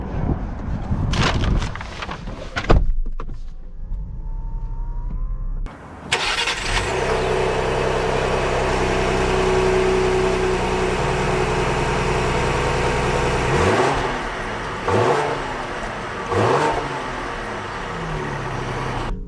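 A 2022 Lincoln Aviator Reserve starts with a brief crank and catch, then settles into a steady, smooth idle. Later the engine revs rise and fall in a few short swells of acceleration, heard close and clear with no talking.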